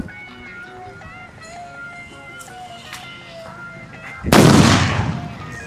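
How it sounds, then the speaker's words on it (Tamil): A Hitler brand firecracker bursts with a sharp, loud explosive crack that trails into a fading broadband rumble, following several seconds of quieter background tones. "ஹிட்லரோட வெடியை வெடிச்சு சும்மா குப்பை வெடி வேறு வெடிவோம்."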